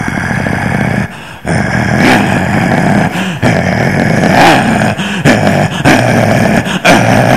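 A voice imitates a dog attacking two or three puppies: loud growls and snarls broken by brief pauses, mixed with whimpering yips, close and continuous without ordinary speech.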